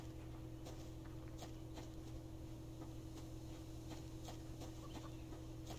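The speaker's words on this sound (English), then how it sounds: "There's a chicken down here as well." Chickens clucking in the survival game Subsistence, a few soft scattered clucks over a steady ambient game hum near a northern lake, fairly quiet and without talk.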